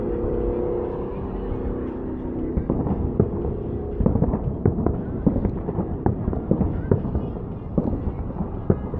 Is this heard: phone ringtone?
no